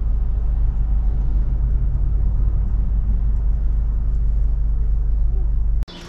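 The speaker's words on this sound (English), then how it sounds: "So the idle is steady now." A Maruti Ritz / Suzuki Splash engine idles steadily after its throttle body has been cleaned, a constant low rumble held close that cuts off sharply near the end.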